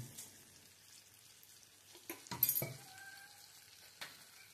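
Five bangda mackerel fry in oil on a tawa with a soft, quiet sizzle, broken by a few sharp clinks and spatters of oil around the middle; nobody talks.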